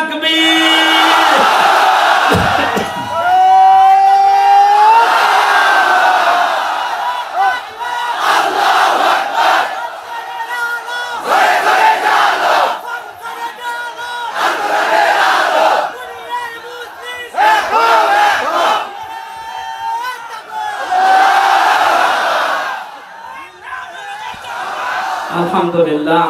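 A large crowd at an Islamic sermon gathering roars a takbir chant in loud repeated waves, with bellowed shouts rising and falling over about half a minute.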